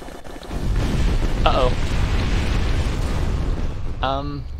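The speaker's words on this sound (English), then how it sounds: "we're gonna come to a stop while the engines are at full throttle by firing the gun" An A-10's GAU-8 cannon in a flight video game fires a long, loud roaring burst that rumbles continuously for several seconds, with brief spoken voices heard at the start and end.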